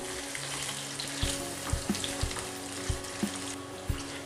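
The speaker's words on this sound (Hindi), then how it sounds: "तेल गर्म हो जाने के बाद हम इसमें डालेंगे प्याज और प्याज को हल्की सुनहरी कर लेंगे" Onions fry in hot oil for mutton korma, a steady close sizzle broken by several soft knocks and stirring clunks from the pan at irregular intervals.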